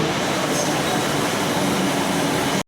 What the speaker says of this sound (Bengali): ট্রেন চলে এলো। ওটা ধর্মতলা যাচ্ছে